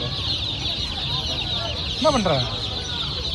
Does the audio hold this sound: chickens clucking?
yes